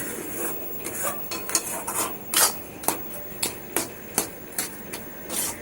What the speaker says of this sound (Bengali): এই মিশ্রণটার সাথে ক্ষীরটাকেও ভালো করে এর মধ্যে মিশিয়ে নেব